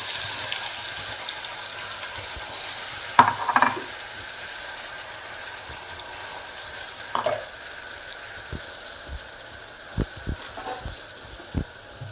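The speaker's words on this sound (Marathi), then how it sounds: "बघा, आता आपण आमटीला फोडणी घालतोय।" Mustard seeds, cumin, curry leaves and ground masala paste frying in hot oil for an amti tempering, a continuous close sizzle with a few sharp pops and crackles scattered throughout, no talking.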